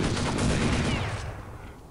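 AK rifle fire in Counter-Strike 1.6 on the Dust2 map, a dense burst of loud close-range shots that thins out and trails off toward the end.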